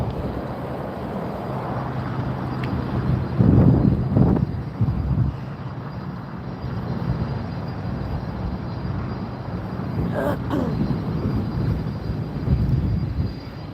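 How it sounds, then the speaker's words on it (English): A Southwest Boeing 737 MAX 8 lands in a strong crosswind at Las Vegas, its jet engines a steady broad roar mixed with gusty wind noise, swelling slightly at moments. "This is going to be a Boeing 737 MAX 8."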